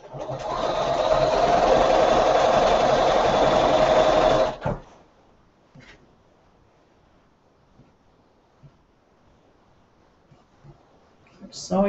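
A sewing machine stitches quilt pieces for a disappearing pinwheel quilt, running steadily and close for about four seconds before stopping, followed by quiet handling sounds and faint talk.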